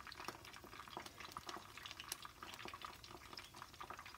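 Churro dough frying in hot oil on medium heat, a quiet, steady crackling sizzle with fine popping bubbles that stays even throughout.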